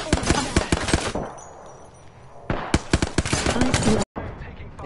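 Rapid automatic gunfire in the Apex Legends video game, loud bursts of shots with a brief lull in the middle before heavy firing resumes, cutting off sharply near the end.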